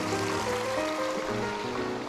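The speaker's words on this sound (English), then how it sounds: "I gotta walk across this little waterfall right here without falling down there" A small waterfall on a hiking trail pours in a dense, close, steady rush that carries on unbroken through the moment.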